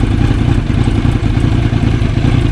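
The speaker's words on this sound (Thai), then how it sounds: "เสียงท่อเดินเบานะครับ" A Kawasaki Z900 SE with a Yoshimura R11 full exhaust idles steadily up close, a low, even rumble with a slightly uneven putter and no talking.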